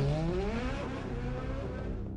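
A Ferrari F430 sports car engine roars loudly up close, climbing through the revs and then falling back as the car drives, with a faint squeal from the tyres.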